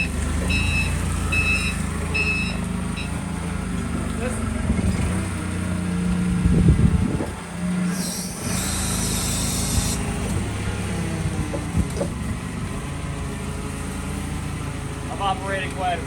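An off-road forklift drives and reverses with a steady engine rumble and repeated reversing beeps early on, a brief hiss midway, and a person talking over it.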